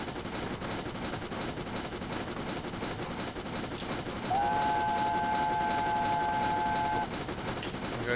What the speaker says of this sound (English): I'm going to just give another little whistle for any hikers who are wishing to cross.